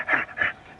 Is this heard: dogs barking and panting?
yes